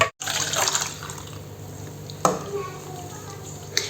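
Half a glass of sugar is stirred into mint tea, with a soft, continuous liquid swirl close by and a couple of sharp clinks against the pot.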